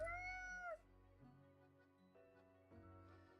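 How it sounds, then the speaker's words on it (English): Cat meowing contentedly, one clear rising meow up front followed by softer, quieter murmuring meows, close and without talk. "Contented meows."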